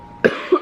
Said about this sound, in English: A lot of yak in here. Gets me coughing.